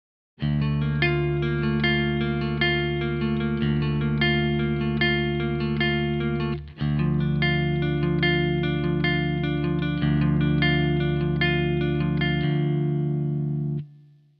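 A clean electric guitar through a Vox amPlug 3 High Gain headphone amplifier plays sustained chords and notes with a bright, ringing tone and slight chorus shimmer, steady and upfront, with a brief break midway.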